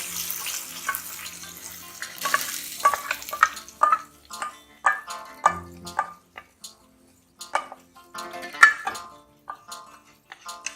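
Spinach mixture sautéing in ghee in a pan, with crackling sizzle and repeated scraping stirs at an irregular rhythm, close and fairly quiet.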